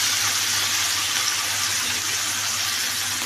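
Water poured into a pan of browned chicken and onions, a steady close hiss and gush running evenly without pause, with no voices over it.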